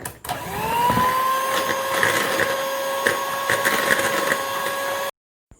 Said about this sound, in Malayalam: ഇനി നമുക്ക് ഈ എഗ് യോക്കും വാനില എസൻസും കൂടി ഒന്ന് നന്നായിട്ടൊന്ന് ബീറ്റ് ചെയ്തിട്ടെടുക്കാം.